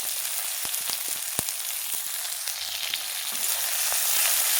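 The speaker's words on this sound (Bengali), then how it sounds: "পেঁয়াজটা তেলে দিয়ে দিয়েছি।" Onions frying in very hot oil give a steady, bright sizzle with a few sharp crackles, close and continuous, swelling slightly louder toward the end, no talking.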